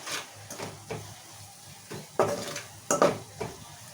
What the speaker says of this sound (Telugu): ఇలానే 1 నిమిషం పాటు ఫ్రై చేసుకుందాము.